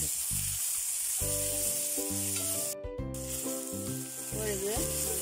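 Duck curry masala with tomatoes and curry leaves sautéing in a pan, a steady close sizzle with repeated scraping stirs of a spoon across the pan, no voices.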